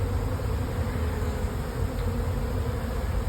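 Honey bees from a nuc hive being shaken into a box make a dense, loud, continuous buzzing hum close by, with no talking.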